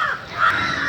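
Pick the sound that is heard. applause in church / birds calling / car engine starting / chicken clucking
birds calling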